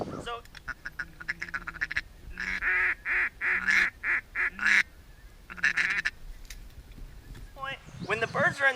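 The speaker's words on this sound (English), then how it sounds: "we're going to switch to doing adding feeding chuckles in, as well as the hail calls" Duck call blown by a hunter, rapid rhythmic feeding chuckles followed by a series of loud, evenly spaced hail-call quacks, then more quick chuckling near the end, close and clear.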